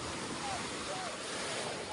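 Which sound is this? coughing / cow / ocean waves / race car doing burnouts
ocean waves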